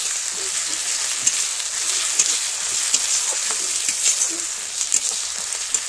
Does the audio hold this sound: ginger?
yes